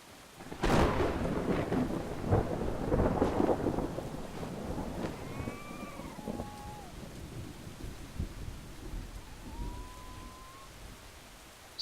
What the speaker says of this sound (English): Of course, happens to be storming and raging.